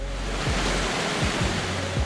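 Victoria Falls on the Zambezi River, on the border between Zimbabwe and Zambia, gives off a dense, steady roar of falling water broken by low, rumbling gusts.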